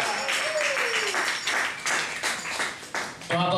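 Applause from the crowd at a live music show in a small club, steady clapping mixed with cheering and a brief whistle-like tone, and a voice cutting in at the end.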